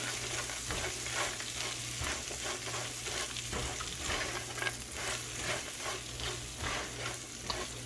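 Food seasoned with salt and pepper fries in a pan over medium-high heat, giving a dense, continuous sizzle broken by rhythmic scraping strokes of stirring, with no voices.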